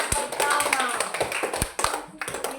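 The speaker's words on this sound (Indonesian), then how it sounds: "Iya, tepuk tangan." Students in an Indonesian classroom clap hands in a short burst of sharp, uneven claps, fairly close, with faint voices in the background.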